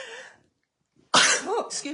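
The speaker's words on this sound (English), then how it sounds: "That was a sneeze, not a pop." A single sharp, explosive sneeze bursts out after a brief silence, followed by a voice speaking.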